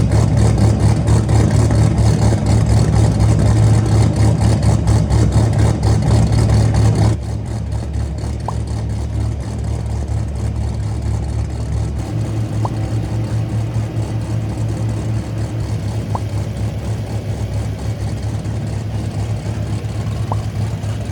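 An 8-liter V10 engine with a big lumpy cam rumbles at a steady idle after start-up, louder and rougher for the first several seconds, then settling to a smoother, quieter idle.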